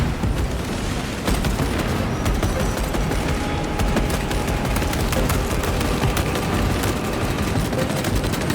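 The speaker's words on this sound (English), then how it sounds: "Throwing frag grenade!" Dense, continuous gunfire and booming blasts from a frag grenade in Warhammer 40K Space Marine 2, loud and sustained throughout with rapid cracks layered over a rumbling low end, a battle against Tyranids defending a reactor.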